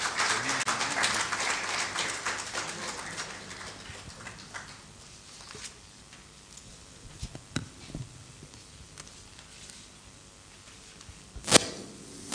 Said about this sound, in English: Let's welcome him with a clap offering.